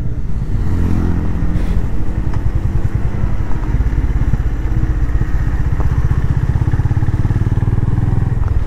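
A Honda Highness motorcycle is ridden slowly on a wet road near Dal Lake in Kashmir in cold weather, its single-cylinder thump loud and steady under rushing wind, with no talk.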